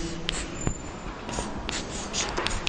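Writing on a board in a school biology lesson gives faint intermittent scratching strokes, partly buried in a steady hiss of room noise.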